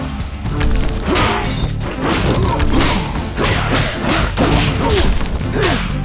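In the One Finger Death Punch video game, an enemy is knocked into a breakable object, bringing a dense run of loud smashes, thuds and shattering crashes in rapid repeated bursts.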